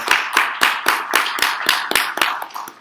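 A small audience at a Spanish-language book presentation claps for the author, with about a dozen distinct, fairly evenly spaced claps close by and no talking.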